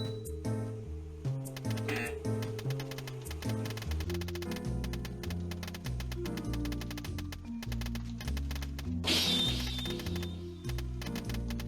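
Typing clacks in a film noir typing simulator video game sound over a looping musical score, with a steady rhythmic pulse and a brief brighter flourish near the end.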